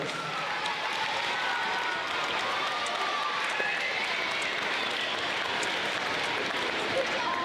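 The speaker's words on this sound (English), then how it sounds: "Let's give all of our fourth graders a big round" Applause at a school awards ceremony for fourth graders, a steady wash of clapping from a crowd in an indoor hall, sustained and even throughout, with no clear speech on top.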